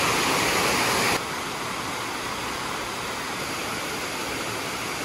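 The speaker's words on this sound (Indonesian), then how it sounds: "Di sini kalian bisa lihat aliran air sungainya." A clear forest river runs over rocks in a steady, dense rush of broadband noise, close and even throughout, with a louder brighter burst in the opening second and no voices.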